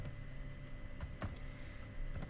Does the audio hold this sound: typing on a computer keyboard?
yes